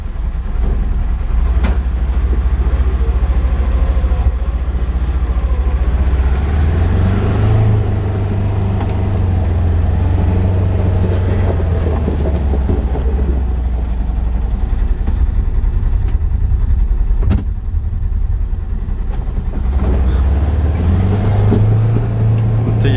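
A Polaris Ranger utility vehicle drives in low gear around a property, its engine a loud, close, steady drone that rises and falls in pitch as it moves, with no talking.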